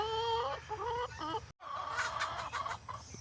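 Backyard chickens clucking and calling in summer heat in Indiana, a close, busy stream of bird vocalizations with a short pause midway.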